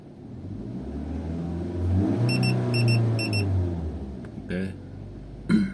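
A dashboard-mounted OBD2 HUD P6 head-up display in a 2014 Avanza All New car gives its speed and RPM warning: three short pairs of high electronic beeps, clear over the low engine rumble and revving.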